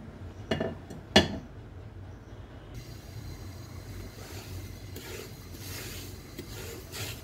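Cooking pots being swapped on a stove while making mango leather, with two sharp metallic clanks near the start followed by soft scraping and rubbing of cookware, no talking.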